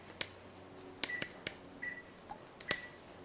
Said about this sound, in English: Set the kitchen timer.